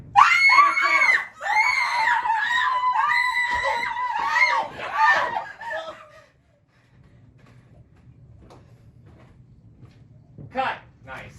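A person lets out long, loud, strained screams for about six seconds on a film set, then near silence, then a brief burst of voice at the end.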